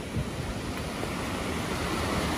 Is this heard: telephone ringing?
no